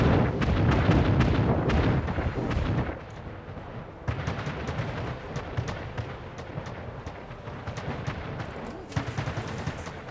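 Ship cannons firing during a naval battle in the video game Anno 1800: a dense run of loud, booming blasts that overlap into a continuous rumble, easing slightly midway before more shots crack through.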